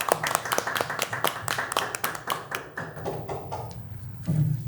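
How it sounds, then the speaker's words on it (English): A small group clapping at a board of directors meeting, a brief scattered round of applause that thins out after a few seconds, heard through a meeting audio feed. "Please join us in a round of applause."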